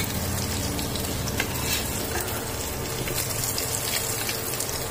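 Fish fries in a pan of oil with a dense, loud, unbroken sizzle and crackle that holds steady at close range.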